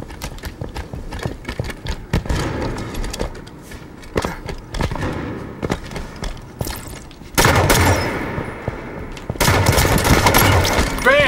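Repeated gunshots and bursts of fire in Halo 5 online multiplayer, including a headshot, rapid cracking shots in clusters with louder volleys near the end, close and punchy, with faint voices underneath.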